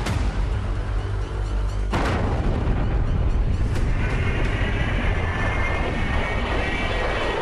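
A large military jet bomber such as a B-52 or B-1B roars past, a loud, continuous broadband engine rumble that swells abruptly near the two-second mark and holds steady throughout, with no voices present.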